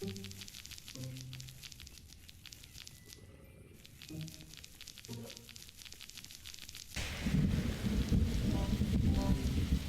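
A thunderstorm in the Roblox survival game 99 Nights in the Forest, with steady rain and distant rumbling, then a loud crash of thunder swelling into a heavy roar in the final seconds; no one talks.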